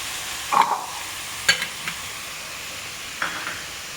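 Garlic tossed into a hot pan while cooking a Kerala-style green bean stir-fry: a few sharp scraping stirs and brief sizzling bursts, spaced apart over a low steady hiss, with no talking.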